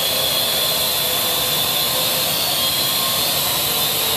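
A drone hovers and flies in a steady, loud, unbroken whir of rotors and motor that holds constant throughout, with no talk over it.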